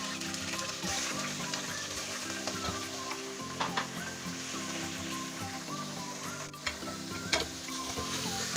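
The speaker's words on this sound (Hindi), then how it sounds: "चिकन को अब अच्छे से करते हैं फ्राई" One kilogram of chicken frying in hot ghee over a low flame, a continuous crackling sizzle with occasional spoon scrapes and clinks against the pan, no voices.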